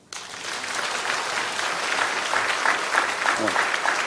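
An audience at a lecture bursts into applause, a sudden dense wash of clapping that starts sharply and holds steady, with a voice faintly heard near the end.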